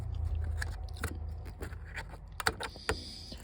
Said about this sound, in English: I'm still chewing on it.